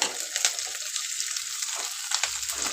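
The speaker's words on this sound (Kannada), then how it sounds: "ಶುಂಠಿ ಬೆಳ್ಳುಳ್ಳಿ ಪೇಸ್ಟ್ನ ಹಾಕೋತಾ ಇದ್ದೀನಿ ಅದು ಕೂಡ ಹಸಿ ವಾಸನೆ ಹೋಗೋವರೆಗೂ ಚೆನ್ನಾಗಿ ಫ್ರೈ ಮಾಡ್ಕೋಬೇಕು" Ginger garlic paste fries with onions in a pan, giving a steady soft sizzle with occasional crackles and pops, close and moderately quiet, with no voices.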